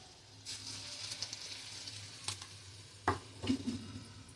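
Egg fritters (dim fuluri) sizzle in hot oil with a steady soft crackle, broken by a few brief clunks and stirs from a utensil nearby.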